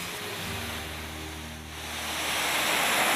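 A waterfall along a bluff line in Arkansas gives a steady, full rushing roar of broadband water noise, close and continuous and swelling slightly toward the end, with no voices.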